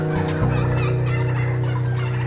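A bronze turkey on a farm gobbles loudly and close, a sustained warbling call filling the moment without speech.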